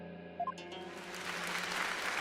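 Crowd applause from the courtroom in the video game Ace Attorney Spirit of Justice, following two brief high tones and then swelling into a steady, fairly loud wash of clapping that continues to the end.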